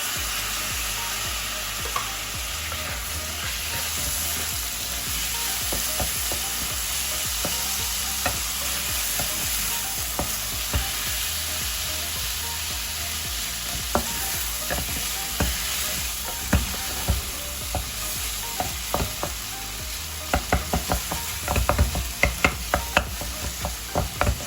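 Onions and tomatoes fry in a pan over a constant high flame for prawn thokku, a continuous loud sizzle with frequent spatula scrapes and taps that grow busier toward the end.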